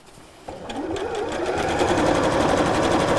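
A sewing machine stitches the edge of a foam-padded fabric tie top tray. It starts with a soft click, then speeds up into a steady rapid whirring hum that stays loud and close.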